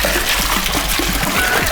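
Hawaiian punch pours into a jungle juice mix, a short close splashing trickle with uneven gurgles throughout.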